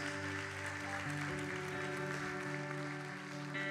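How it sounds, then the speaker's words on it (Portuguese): Congregation applauding at a church worship event, a steady wash of clapping throughout with sustained musical tones ringing underneath. "Pode aplaudir a Jesus."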